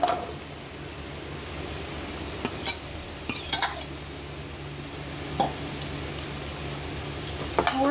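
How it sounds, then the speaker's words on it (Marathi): Red pumpkin fries in bubbling butter for soup, with a soft steady sizzle broken by a few short scraping bursts from a spoon stirring the pan. "बटर उकळायला लागलं आहे तर आता आपण पहिल्यांदा घालणार आहोत लाल भोपळा"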